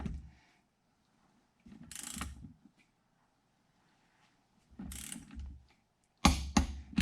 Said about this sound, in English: run the rods up with torque wrench so that you know you're getting them all to the same torque